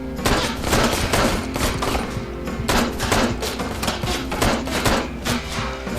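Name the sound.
gunfire in Ride to Hell video game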